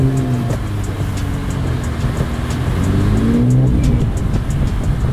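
Infiniti Q60 accelerating hard on a snowy road, its engine revving loudly and continuously with rising and falling pitch, heard close from inside, no talk.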